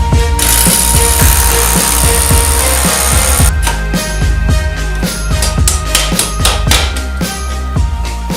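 Ratcheting and clanking tool work fastening a bolt into a wall fastener in a garage, a loud, fast repeated mechanical clatter of short strokes, harsher and hissier in the first few seconds, then irregular knocks.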